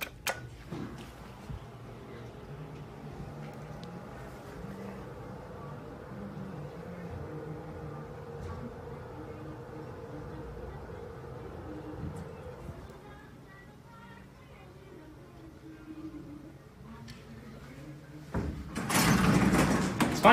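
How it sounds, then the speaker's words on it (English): A 1978 Otis hydraulic elevator descending, a low steady hum and drone with faint ticks and clicks, easing off partway through before a loud door-like clatter near the end. "And now we're going to listen to a descent."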